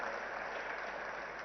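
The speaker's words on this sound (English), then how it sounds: "I think he deserves a big, big round of applause," A large audience at the inauguration of a digital entertainment festival gives a steady round of applause, with dense, continuous clapping at an even level throughout, heard alone with no voices over it.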